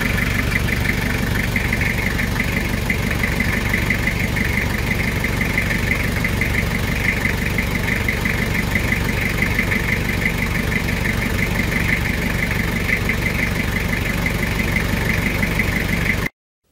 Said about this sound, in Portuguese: Olha o motor na primeira partida.